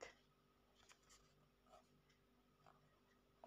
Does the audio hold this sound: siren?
no